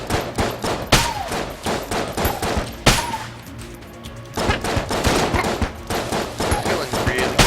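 Enemy gunfire in the shooter video game Enter the Gungeon, dense bursts of rapid shots and impacts with repeated sharp cracks, loud and continuous with a brief lull midway.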